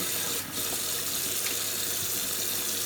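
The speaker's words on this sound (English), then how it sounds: "Just rinse these off." Motorcycle parts rinsed under a running tap into a sink, a steady, close rush of water pouring without pause, with one brief splash shift early on.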